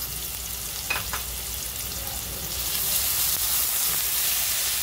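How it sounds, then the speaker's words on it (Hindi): Onions frying in oil with salt in a pan on the stove, cooked until soft and lightly pink, give a steady close sizzle that swells louder toward the end, with a couple of brief utensil scrapes early on. "इसमें भी प्याज डालेंगे, प्याज के साथ नमक डालेंगे, प्याज को नरम करेंगे"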